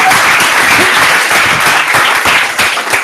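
Audience at an Effective Altruism Netherlands launch event clapping hard, a loud, dense and sustained round of applause with individual sharp claps standing out near the front.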